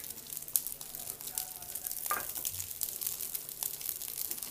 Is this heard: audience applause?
no